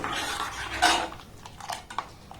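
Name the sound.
stirring kulfi milk mixture in a pan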